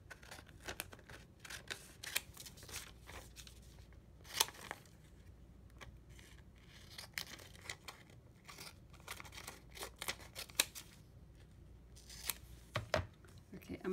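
Scissors snip through clear packing tape transfers in a run of repeated, close, crisp cuts mixed with light crinkling of the tape, with a voice talking now and then over the work.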